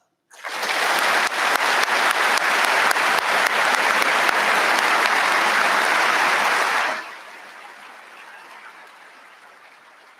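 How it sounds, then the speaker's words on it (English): A crowd at a West Point graduation ceremony claps loudly and steadily for about six seconds, then the applause drops off abruptly, leaving faint scattered clapping and room noise. "please join me in a round of applause"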